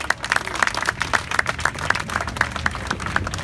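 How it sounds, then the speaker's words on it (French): An audience at a political rally and demonstration in France claps steadily, with dense, even applause from a moderate crowd and no talking over it. "Sous vos applaudissements, merci."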